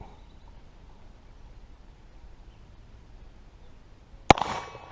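An 1861 Colt Navy black powder revolver made by Pietta fires one sharp, loud shot outdoors after several seconds of quiet, with a short ringing tail afterward.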